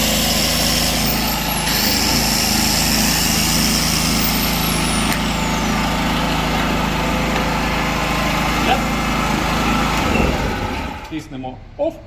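A small petrol generator's engine drones steadily at close range, a constant mechanical hum that cuts out abruptly near the end, leaving near silence.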